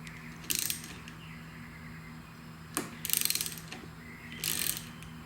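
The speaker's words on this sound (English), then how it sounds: "We'll use the 6mm Allen socket." Ratchet fitted with a 6mm Allen socket loosening Loctite-secured motorcycle handlebar grip bolts, giving three short bursts of rapid clicking with sharp single clicks between, close and fairly quiet over a low steady hum.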